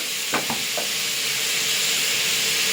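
Tomatoes for a mushroom biryani sautéing in a hot pan, a steady broadband sizzle with a few brief stirring scrapes near the start, close and continuous with no talking.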